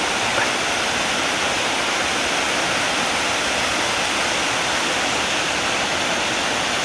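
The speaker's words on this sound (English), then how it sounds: "The wee burn is now a waterfall." A small Highland burn near Ben Bhraggie and Golspie in Sutherland, swollen in autumn into a woodland waterfall, pours with a loud, close, unbroken rushing roar and no voices.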